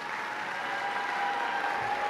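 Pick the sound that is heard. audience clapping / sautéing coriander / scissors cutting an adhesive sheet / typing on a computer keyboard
audience clapping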